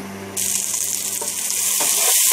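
Three small-chopped garlic cloves dropped into hot oil with mustard seeds and fenugreek, bursting into a loud, close, steady sizzle that holds and swells slightly after a short quieter moment.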